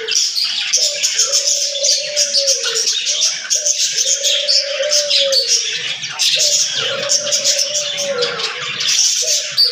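Small parrots kept for sale call close by, with repeated drawn-out cries at a regular pace over a constant background of bright chirping and twittering from many birds.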